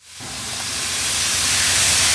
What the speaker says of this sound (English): The museum's O&K locomotive was also fired up.